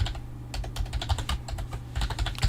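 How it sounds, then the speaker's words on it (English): Quick, uneven clatter of keys on a computer keyboard, close and moderately loud, with bursts of rapid keystrokes over a low steady hum and no talking. "I'm just typing and hoping it's working."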